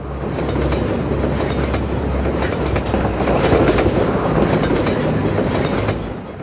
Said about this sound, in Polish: Kolejny pociąg jedzie.